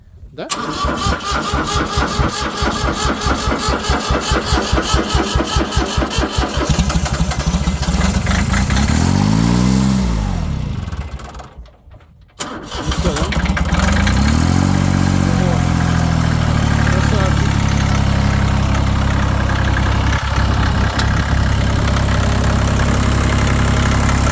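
A tractor engine runs with a loud, steady mid-pitched drone, then winds down and stops. It cranks and fires again, settling into a deep, steady idle while people talk nearby.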